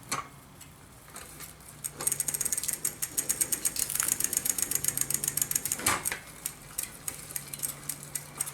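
A Raleigh Chopper bicycle shifted back into second gear gives a fast, close mechanical ratcheting, a long run of dense clicks that come in bursts with brief pauses and a louder clack partway through.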